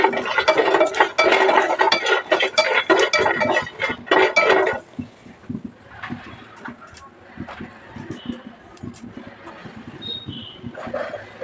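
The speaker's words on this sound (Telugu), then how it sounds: "తర్వాత కొంచెం ఎండు కొబ్బరి, లైట్గా వేయించుకోవాలి" Dry coconut lightly roasted in a pan for mirchi masala curry: loud, busy scraping and stirring for several seconds, then softer intermittent clinks and scrapes of the utensil against the pan.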